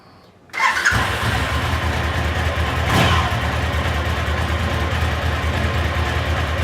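A Suzuki V-Strom DL1000 motorcycle engine fires up after a brief quiet start and settles into a steady, loud, close idle with a slight swell around the third second, freshly after a throttle position sensor adjustment.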